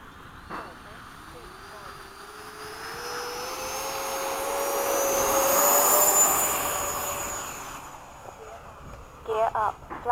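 BAE Hawk jet engine on the takeoff roll during a formation flight, a steady whine swelling to a loud peak and then easing, with a voice talking briefly near the end.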